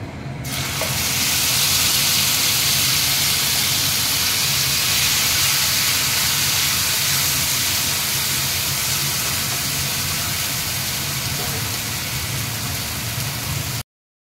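Makhana paste frying in hot oil with garam masala, a loud, continuous sizzling hiss that starts abruptly and holds steady for over ten seconds before cutting off.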